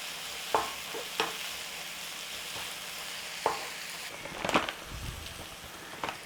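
Sliced mushrooms, onions and garlic softening in a butter mixture in a pan, a soft steady sizzle broken by a few sharp scrapes and clacks of stirring, fairly quiet and without talk.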